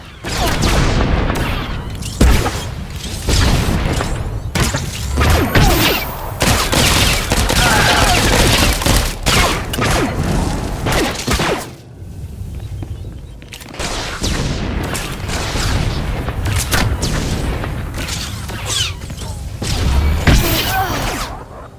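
Blaster fire and explosions in Star Wars: The Old Republic, a bounty hunter battle, crackle in dense continuous volleys with heavy booms, loud and close, with a short lull midway before the barrage resumes.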